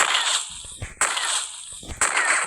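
Sniper rifle firing in a video game, three sharp loud shots about a second apart, each followed by a bright ringing hiss that fades before the next.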